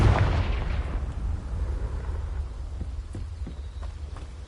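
Fire-blast spell explosions from Confringo in Hogwarts Legacy: a loud booming burst at the start, then a rumbling tail with a few smaller sharp pops and cracks further in, no voices.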